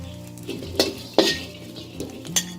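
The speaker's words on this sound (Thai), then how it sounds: "เราจะคั่วจนกว่าเขาเกลียมเลยนะนี่ค่ะ" Shallots dry-roasting in a pan on a Thai cooking stove until blackened, heard as a few sharp clinks and scrapes of a utensil against metal over a low steady background, close and moderately loud with no talk.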